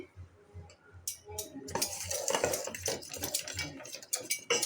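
Rice flour is stirred into a stringy dough in a pot, a soft spoon scraping and clinking against the metal in irregular strokes, faint at first and then busier and louder.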